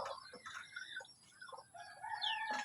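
Native hen and rooster with chickens on a farm, giving repeated clucks and calls, the rooster crowing toward the end, fairly close and clear against a quiet background.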